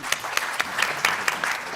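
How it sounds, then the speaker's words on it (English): Short burst of audience applause for panelists at a science education conference session, a steady patter of many hands with a few sharper claps standing out, fairly close and loud. "can we have a round of applause for our panelists"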